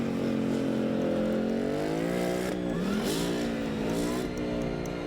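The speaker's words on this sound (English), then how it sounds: "3 American muscle cars, all of which have been tuned to a tire-shredding DEFCON 1." Three tuned American muscle cars with V8 engines rev hard, a loud continuous engine roar with pitch rising and dipping as the throttle is worked.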